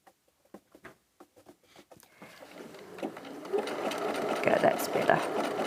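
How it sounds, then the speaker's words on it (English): A sewing machine stitches a widened zigzag while making jelly roll baskets and bows, its motor starting after a few soft clicks and settling into a steady, close whirring run that grows louder toward the end. "I'm just going to increase the width of my zigzag just a little bit."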